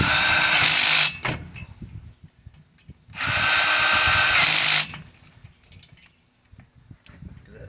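A cordless power drill tightens bolts while assembling an MF Studio Phi Villa five-piece patio dining set, two loud sustained whirring bursts of about two seconds each separated by quieter handling clicks and knocks.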